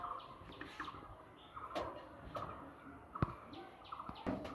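Pigeons in a breeding loft give soft, low, repeated cooing calls at moderate distance, mixed with faint chirps and occasional light knocks in a quiet room.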